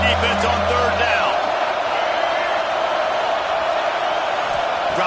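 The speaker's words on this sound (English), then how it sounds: "Decibels rising as the crowd gets behind this defense on 3rd down." Stadium crowd at a UCLA football game roars steadily for the defense on third down, a dense, loud, sustained wash of cheering with a few whoops over it.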